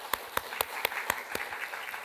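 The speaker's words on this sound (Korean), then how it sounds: "우리 환영의 박수 한번." Sparse welcoming applause from a church congregation, a handful of distinct, spaced claps ringing out at a slow, uneven rhythm in a quiet hall, fading toward the end.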